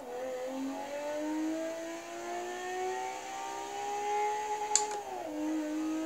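A car engine in a racing video game revs and holds a steady high whine, then drops off near the end, played fairly quietly with no talk.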